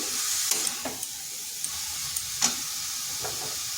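Grated cauliflower sizzles steadily in a frying pan over low heat while it is stirred with spices, with a continuous hiss and scattered light scraping taps from the spoon.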